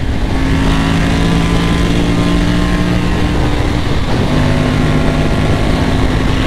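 A motorcycle with a modified exhaust and previously clogged catalytic converters roars loudly at close range, a dense, sustained engine drone with steady high revs that barely shifts throughout.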